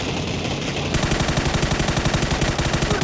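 Rapid automatic gunfire from the video game PUBG, a steady run of close, evenly spaced shots that starts abruptly after a short lull and continues loud to the end.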